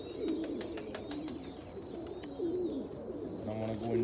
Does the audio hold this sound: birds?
yes